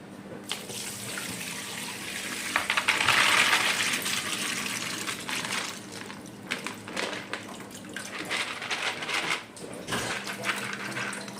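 Cassava pearls rubbed and rinsed by hand in water in a kitchen, a steady splashing and trickling stream with intermittent sloshing and rubbing noises, close and continuous without talk.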